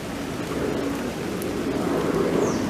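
Rain falls steadily in a garden, a soft continuous patter and hiss that stays even throughout, heard outdoors with no talk.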